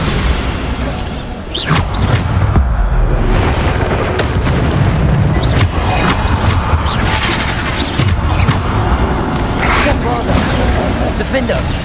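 Repeated Bombarda spell explosions in Hogwarts Legacy boom loudly and close among crashes and bursts of other spell impacts, with a voice talking over the combat.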